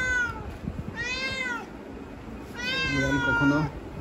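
A pet cat meows twice, close and loud, each call a drawn-out rising-then-falling cry with a short pause between, over faint room noise.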